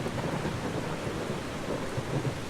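Thunderstorm with heavy rain in the video game Eastshade, a dense steady wash of rainfall with a low rolling rumble of thunder underneath, continuous throughout.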